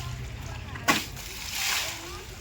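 Water splashing while a boat is washed, a quiet wet background broken by one sharp splash and a softer sloshing swell shortly after.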